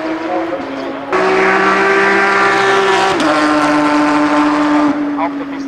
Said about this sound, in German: Der sechsfache französische Meister Nicolas Kircher mit seinem Porsche